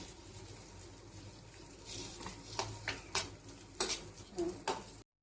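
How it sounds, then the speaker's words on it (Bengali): Garlic stirred in a cooking pan, soft frying sizzle with intermittent scraping and clinking of a utensil against the pan, quiet and close, no speech. "তো আমি এটা একটু সামান্য নেড়ে চেড়ে নিচ্ছি।"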